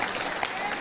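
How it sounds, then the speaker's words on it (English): Church congregation clapping during a fellowship worship service, a dense steady wash of applause lasting under a second with no gaps. "I hope all the applause is for Jesus."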